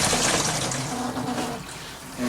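Water trickling and rushing through a newly installed shut-off valve in travel trailer plumbing, a steady, close, broadband flow that eases slightly toward the end.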